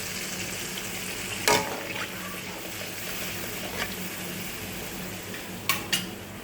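Spices sizzle in a pan after a splash of water is added, a continuous soft frying hiss broken by a few sharp clinks and scrapes of a utensil against the pan.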